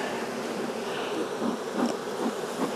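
Honeybees swarm around an open hive during an inspection, a dense, steady buzzing drone that swells and dips slightly, close and continuous with no voices.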